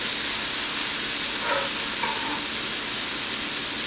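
Baby corn and bamboo shoots stir-frying for fried rice, a steady close sizzle and hiss running throughout with faint scraping stirs, no talk.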